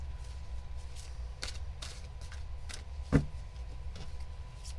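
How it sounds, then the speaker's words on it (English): Tarot cards are shuffled in a quiet room, giving several quick papery riffles and soft slaps spaced irregularly, with one sharper knock near the end and no voices. "Cleansing shuffle for Serenity."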